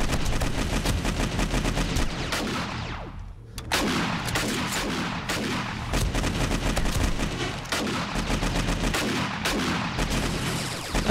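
Heavy, near-constant gunfire in the zombie survival game 7 Days to Die, dense rapid automatic bursts with one brief lull, loud and close throughout, no talk.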